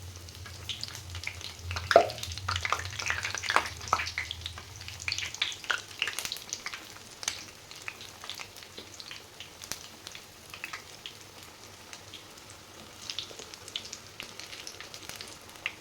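Egg-coated potato kababs sizzle steadily in hot oil after being flipped, with a dense frying hiss and scattered spatter pops, louder early on and settling to a softer crackle.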